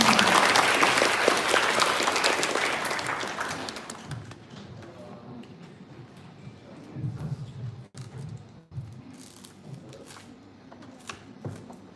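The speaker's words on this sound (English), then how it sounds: "Give big and round applause to Professor." Audience at an academic talk applauding a visiting professor, with loud dense clapping for about four seconds that thins out and fades into scattered claps and room murmur.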